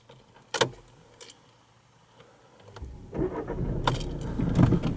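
Door locks of a VW Golf 7 releasing automatically, with a brief mechanical clack early on, then a louder stretch of vehicle and handling noise with some jangling toward the end.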